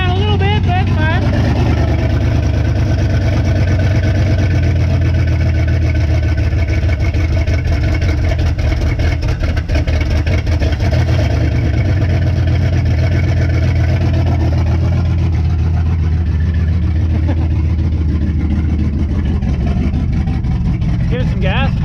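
An LS-swapped Chevy Impala with a rebuilt carburetor and TBSS intake runs loud and steady close by, a deep continuous engine rumble with voices talking over it.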